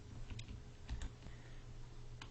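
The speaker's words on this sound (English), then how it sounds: "we want to type the Actionscript go to and play" ActionScript code being typed on a computer keyboard, a few soft, sparse key taps heard faintly against a quiet background hum.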